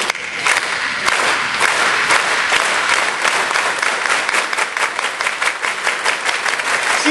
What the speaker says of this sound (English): So does anyone know about the unity clap?